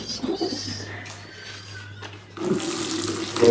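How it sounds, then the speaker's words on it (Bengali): Water splashing as it is poured out of pigeon water pots in a loft, a soft trickle near the start and a louder, steadier splash in the last second, with a low hum underneath. "সবগুলোর কাছ থেকে পানি ফেলে দিব"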